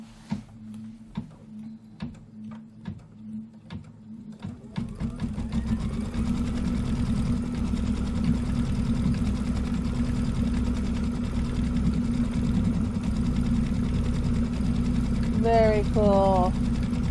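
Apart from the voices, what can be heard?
embroidery sewing machine stitching with red thread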